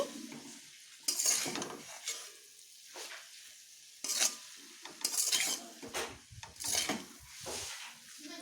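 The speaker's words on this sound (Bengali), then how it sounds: "দু মিনিট পর ঢাকা খুলে আমি এগুলোকে আর একটু এইভাবে নেড়ে নিচ্ছি" Bottle gourd greens frying in a pan are stirred in several separate bursts, each a scraping, rustling sizzle, with quiet pauses between strokes and no talking.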